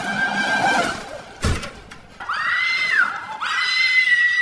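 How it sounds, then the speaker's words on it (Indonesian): A woman screams hysterically in a horror film after stumbling into a blood-filled mud container beside a mutilated corpse; several loud, drawn-out shrieks rise and fall, with a brief thud between them. "Spontan Sarah menjerit histeris sehingga Komar dapat menemukannya dengan mudah."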